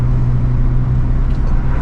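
A 400 hp VW MK6 GLI engine pulls at wide open throttle under boost, making a loud, steady low drone that fills the cabin, with no talking.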